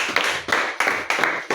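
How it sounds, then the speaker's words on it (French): Children's church audience clapping at a Sunday school service, in short rhythmic bursts of close handclaps repeating roughly every third of a second, loud and without talk. "Applaudissez pour elle."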